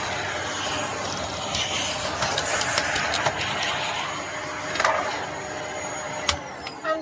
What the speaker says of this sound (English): One quick vacuum.